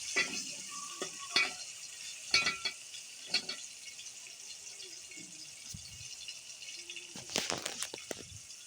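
A garlic paste mixture is stirred and fried in a pan, with scattered scrapes and clinks of a spoon against the pan over a soft, low sizzle, the strokes coming in irregular bursts.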